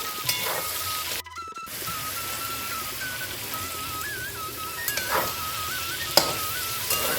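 Mixed vegetables for a Bengali sukto sizzle softly in a pan as they are stirred again and again, a steady frying hiss with occasional scrapes and clinks, and a thin whistling tone running through.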